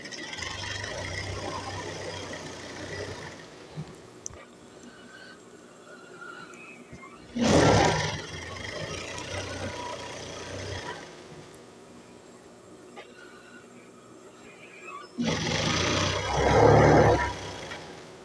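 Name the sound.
sewing machine stitching a ladies' trouser seam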